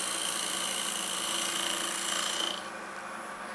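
A wood lathe hums under the hiss of a turning tool shaving a bowl, the cutting rasp dropping away after a couple of seconds and leaving the motor running on.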